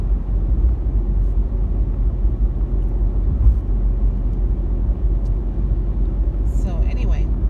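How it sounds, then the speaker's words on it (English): A car drives home on slippery winter roads, a low, constant engine and road rumble heard from inside the cabin with a voice talking over it. "I'm just driving home right now"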